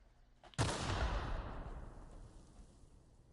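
A single sharp pistol-like shot in a video game bursts out close, then rings off in a long, fading tail, with nothing else around it.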